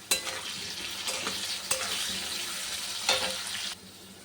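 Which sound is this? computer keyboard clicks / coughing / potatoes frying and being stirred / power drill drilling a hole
potatoes frying and being stirred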